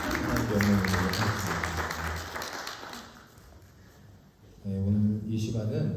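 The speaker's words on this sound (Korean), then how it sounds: "다시 한번 감사의 박수로 히엘 성가대의 하나님께 영광을 드리겠습니다" Church congregation applauding the choir during a Sunday worship service, a broad wash of clapping that thins in the middle and swells back near the end, with voices mixed in.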